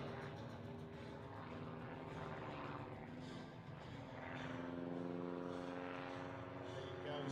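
A home-built propeller airplane drones continuously at a flying display, its engine tone steady and fairly distant with gentle swells in level.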